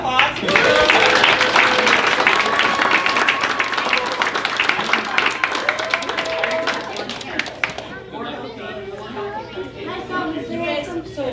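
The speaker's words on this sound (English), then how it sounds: "Let's give him a round of applause." A small crowd with children claps in a lively, crackling round of applause amid chatter and kids' voices, fading after several seconds into talk.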